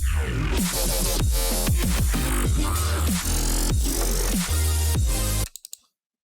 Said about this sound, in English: Here we have a really cool virtual ride growl